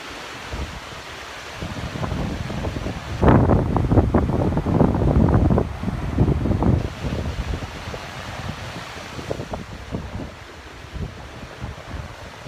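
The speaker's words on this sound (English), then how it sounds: "The biblical Jordan River here in Israel." Wind buffets the microphone beside the Jordan River in Israel, gusting in loud bursts over a steady wash of flowing water, then settling to a quieter rush.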